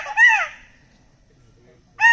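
A human voice imitates a grey junglefowl's call: two short, shrill, wavering cries separated by a quiet pause of over a second.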